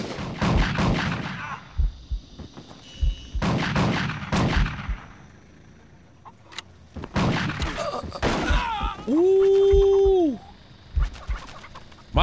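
Gunfire in the video game Total Overdose comes in several loud, sharp bursts of repeated shots separated by quieter gaps, with a brief tonal game sound near the end.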